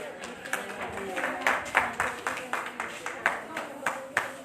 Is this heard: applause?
yes